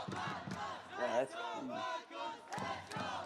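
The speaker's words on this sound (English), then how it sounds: "Very creative chant." An esports crowd chants rhythmically at a Team Falcons match during the Esports World Cup, a loud, dense mass of voices rising and falling in repeated, pulsing shouts.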